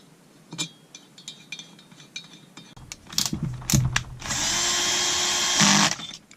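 A power drill or impact driver runs diagonal bolts into an engine, beginning with clicks and ratcheting clatter, then a steady close whirring run lasting a couple of seconds before stopping.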